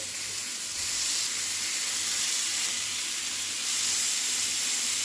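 Chicken pieces fry in butter in a pan for butter chicken, a steady close sizzle and hiss that rises slightly in intensity partway through, with no voices.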